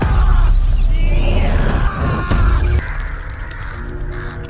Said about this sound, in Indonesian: hingga ratusan burung gagak beranjak terbang dari pohon itu